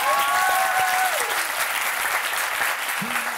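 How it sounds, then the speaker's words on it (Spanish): Applause fills the room steadily from start to finish, a dense wash of clapping on a television talk show set, with a voice singing or speaking over it. "Me aplaudo a mí"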